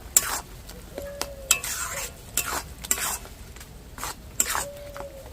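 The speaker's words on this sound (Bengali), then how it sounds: "এই জলটা গা থেকে শুকিয়ে নেব গাজরে তার জন্য আমি দু তিন মিনিট মতো নেড়ে নেবো" Grated carrots stirred in a pan over heat to dry off their water, repeated sharp scrapes and clinks of a utensil against the pan over a soft sizzle, close and fairly quiet, without speech.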